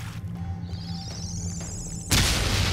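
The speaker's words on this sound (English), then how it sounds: "Zombie grenade." A zombie grenade goes off in the game Dead Effect 2: a thin rising whine and faint rumbling lead up to a sudden loud blast that leaves a sustained roar.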